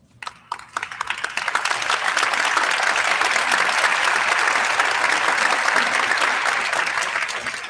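Warm, sustained applause from a large crowd at a memorial celebration for baseball coach Roger Cador, as his former players stand. It starts with a few scattered claps, swells into dense, steady clapping and holds for several seconds.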